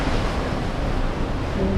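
Atlantic Ocean surf and wind on a cold shore, a steady unbroken roar of waves and gusting air filling the scene without pause.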